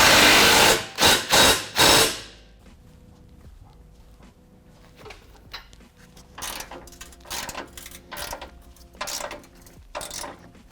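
Ford Performance tow hook bolts on a 2015-2022 F-150 are tightened down. Three loud, sharp bursts come first, then softer rhythmic ratchet clicks and metallic mechanism sounds carry on close by.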